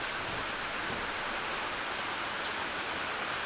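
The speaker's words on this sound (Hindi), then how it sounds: "बारिश ज्यादा है" Heavy rain falling as a dense, steady hiss of broadband noise, fairly faint and unchanging for the whole stretch, with no voices.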